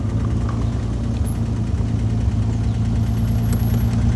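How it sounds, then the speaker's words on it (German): A 1938 Alvis Speed 25 SB engine idling with its bonnet open, a steady low, even rumble held close and loud throughout, with no talking over it. "Ganz interessanter Motor."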